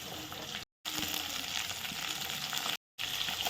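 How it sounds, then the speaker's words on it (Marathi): Chopped garlic and green chillies sizzle in hot oil in a pan, a loud, steady crackling fry that briefly cuts out twice, with no talking. "चला आता आपण थोडे फ्राय करू"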